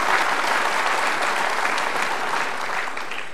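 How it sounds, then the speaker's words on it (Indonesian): Loud, sustained applause from a TV studio audience for children from Surabaya, a dense wash of clapping that eases slightly near the end. "Kita kasih tepuk tangan."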